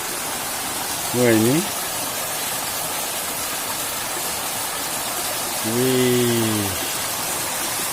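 A strong waterfall or fast stream in open countryside produces a loud, continuous rushing roar throughout, with two brief exclamations from a person over it.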